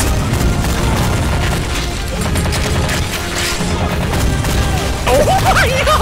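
Dense gunfire and heavy booming explosions fill a chaotic battle in a toy army-men warfare video game, with shots and blasts overlapping continuously and loud throughout.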